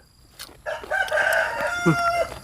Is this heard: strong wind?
no